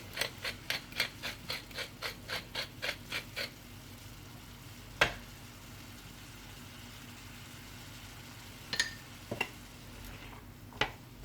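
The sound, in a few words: stirring and cooking turkey, bacon and vegetables in a pan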